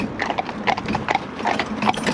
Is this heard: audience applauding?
no